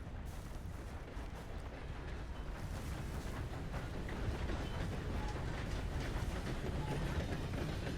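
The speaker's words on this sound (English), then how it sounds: "That's a train." A train passing in Red Dead Redemption II, a steady, low rumbling roar with rattling and clanking that builds slightly over eight seconds, fairly faint and continuous.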